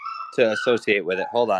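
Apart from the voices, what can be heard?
dog barking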